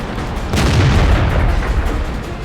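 A howitzer-based tank gun fires in World of Tanks: one heavy, close boom with a long rumbling tail that fills the rest of the moment, with no talk over it.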